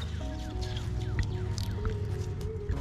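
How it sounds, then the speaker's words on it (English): Postloc post-setting foam poured from a shaken kit into a large hole around a power pole, giving a steady wet squishing and gurgling with soft drips and pops, close and continuous throughout. "And then we're gonna pour it into the hole."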